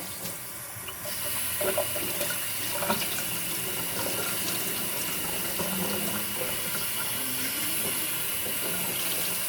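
Tap water runs steadily into a sink with a constant hissing splash, starting softer and then flowing fuller throughout.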